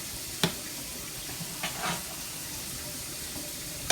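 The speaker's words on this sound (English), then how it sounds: "I'll let this cook down a little bit and then I'll add the shrimp to it." A Tuscan shrimp sauce simmers and cooks down in a pan, giving a quiet, steady hiss broken by a few soft pops and light clicks, with no talking.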